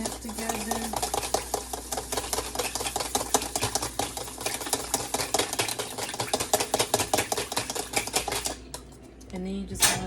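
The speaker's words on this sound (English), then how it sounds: "just go and whisk your mix together" Spicy salmon marinade whisked briskly in a bowl, a fast, steady clatter of whisk against the sides running for several seconds before stopping, close and fairly loud.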